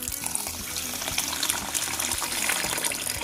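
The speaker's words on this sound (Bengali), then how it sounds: "এবার আমি জল দিয়ে দিচ্ছি" Water pours steadily from a tap onto raw atop rice in a kitchen bowl as it is readied for chakli pitha, making a continuous close gushing splash.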